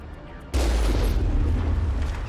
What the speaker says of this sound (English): my cannon is doing short work of them